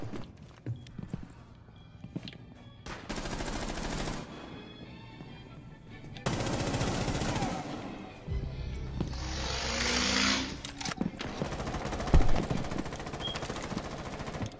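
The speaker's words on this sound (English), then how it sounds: "Go shoot out the hatches." Gunfire in the Rainbow Six Siege video game, with repeated bursts of rapid automatic shots and loud blasts that come in several dense stretches, with a game voice faintly underneath.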